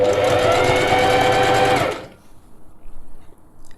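A sewing machine running a zigzag stitch on elastic, a loud, steady mechanical whir at close range for about two seconds that stops abruptly, leaving quiet handling noise.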